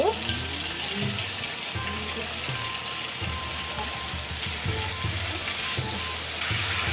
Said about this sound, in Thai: ใส่น้ำมันนิดหน่อยหมู